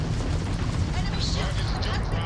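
Naval cannon fire in a ship combat game, a dense continuous roar of booming and bursting shots with no pauses, loud throughout, with a voice talking under the din.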